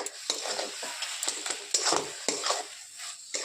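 A spoon stirs mushroom masala curry frying in oil in a pan, giving a series of irregular scraping strokes over a soft background sizzle, close and fairly quiet, with no speech.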